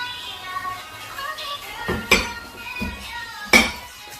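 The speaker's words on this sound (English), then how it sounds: "Now that's done, we're going to put the spoon inside." A metal spoon clinks against a pot of jollof rice and chicken, a few sharp knocks and scrapes, the loudest near the middle and end, over a quiet background with no talk.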